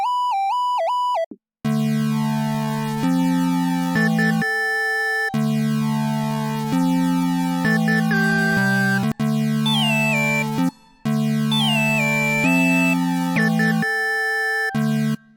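A synth lead from FL Studio's 3X Osc, set to mono with slide for portamento, plays a loud, buzzy gliding melody over sustained low tones, with a couple of brief gaps and no talking.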